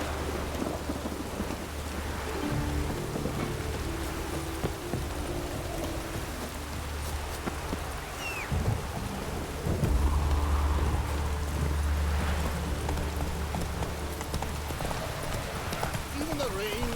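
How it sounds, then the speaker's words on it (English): Rain and rumbling thunder from a stormy scene in the game The Witcher 3, a steady hiss of rainfall with low rolling rumbles and the clip-clop of horse hooves. "It's raining again."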